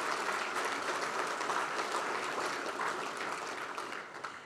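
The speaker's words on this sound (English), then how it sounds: "So can we just give Gary a big round of applause for everything that he does?" Audience applause at a World Plumbing Day 2016 gathering, a steady, dense wash of clapping from many hands that holds for the whole stretch and eases slightly toward the end.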